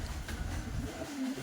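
Pigeons coo softly in a brief, faint burst of low murmuring calls, close by in a quiet loft.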